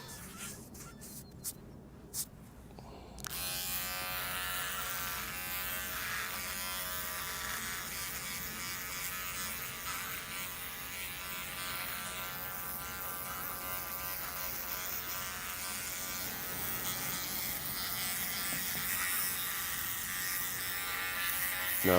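A Philips OneBlade electric razor buzzes continuously through a shave at the beach after a few brief clicks, its close, steady whine shifting slightly as it moves.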